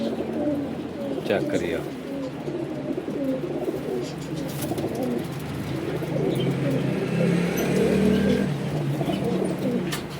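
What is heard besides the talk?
pigeons cooing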